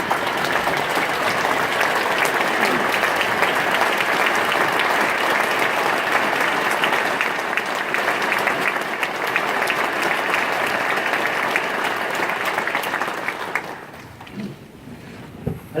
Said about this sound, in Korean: 우리 일어나서 박수 한번 하겠습니다